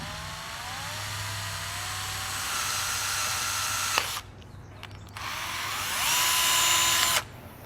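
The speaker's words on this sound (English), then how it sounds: "we're going to drill a 3/8 hole in the center of the grommet" A power drill whines steadily, pausing briefly and then starting again, boring a 3/8-inch hole through the center of a rubber grommet up close.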